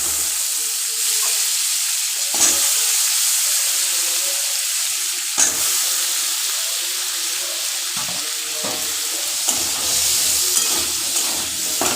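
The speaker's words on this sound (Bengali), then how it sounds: "এই তেলেই আমি আলুটা দিয়ে দেবো।" Potatoes fry in oil with masala for a prawn and potato curry, a steady close sizzle running the whole time, broken by a few sharp crackles and spatters.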